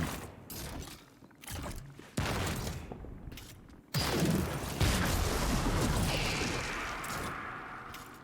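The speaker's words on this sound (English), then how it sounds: "It makes a completely unique grenade sound effect for a grenade launcher." Exotic grenade launcher grenades firing and bursting in Destiny 2, sharp launch thumps followed by sustained hissing, gurgling blast effects that rise and slowly fade, with little or no talking.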